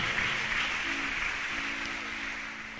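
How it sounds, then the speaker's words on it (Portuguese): A church congregation applauds together, a broad steady wash of clapping that holds at an even level and fades slightly toward the end, with no voices over it. "Aplaude esta palavra de poder, esta palavra de autoridade"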